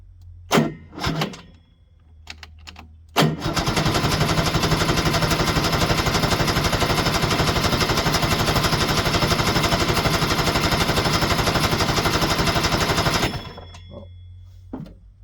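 A 1973 Ski-Doo 399 twin snowmobile engine, braked and choked, catches after a few short cranking bursts and roars loudly and steadily for about ten seconds before cutting off, followed by a few faint knocks.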